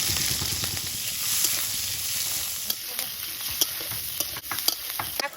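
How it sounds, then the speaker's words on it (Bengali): Whole cumin, slit green chilli and chopped onion frying in oil in a wok, a continuous close sizzle with scattered spatula stirs and clicks throughout. "কড়াইতে তেল দিয়ে দিচ্ছি। এবার শাকটা বসিয়ে দেবো। গোটা জিরে, চেরা কাঁচা লঙ্কা, পেঁয়াজ কুচি,"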